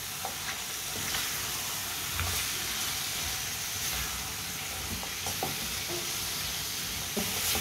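Finely chopped turnips sizzle and hiss steadily in a hot pan for Punjabi-style shalgam, while a spoon stirs them and scrapes the pan now and then. The frying sounds close and continuous, with no one speaking.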